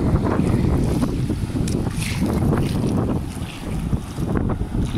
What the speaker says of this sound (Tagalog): malalakas yung alon ngayon